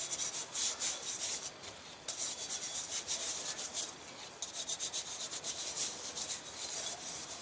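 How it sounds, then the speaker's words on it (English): Wood wax is rubbed onto a rusted, pitted chrome wheel with a rhythmic scrubbing rasp. The strokes repeat steadily and close up, with brief pauses, and there is no talking. "I'm going to go ahead and put a little coat of wax on it"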